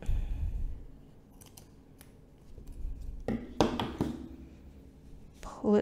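Scissors snipping crochet yarn up close, a few crisp clicks and cuts amid soft handling noise, with someone talking at times.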